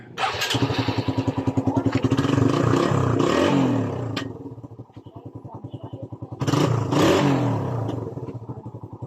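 A Suzuki Raider 150 motorcycle engine runs close by with a fast, pulsing idle that rises into two revving bursts, then settles back to idle.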